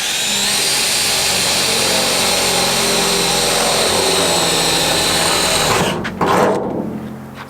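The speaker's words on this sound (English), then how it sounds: "What we do is start by drilling a hole." A power drill boring a hole while a window is fitted into a budget camper build, whining steadily at close range for about six seconds before cutting out and spinning down with a few clunks.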